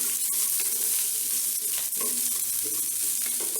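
Onions and tomatoes sauté in a pan, with a steady close sizzle and scattered stirring scrapes through the short stretch, and no voices.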